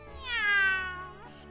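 A single drawn-out cat meow in a children's fairy-tale cartoon, rising then falling over about a second, clear and close with no talk over it.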